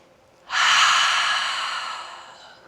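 A single long cleansing exhale during a yoga flow, starting suddenly and loud, then tapering slowly over about two seconds, breathy and close.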